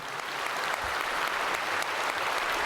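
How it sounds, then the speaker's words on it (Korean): A church congregation applauds during a worship service, with steady, moderately loud clapping from many hands that continues throughout. "박수 한번 쳐드리세요."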